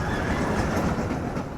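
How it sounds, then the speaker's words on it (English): Carolina Gold Rusher, a mine train roller coaster, rumbles past at close range with a steady rolling roar and clattering wheels, no voices over it. "We got the gold train too"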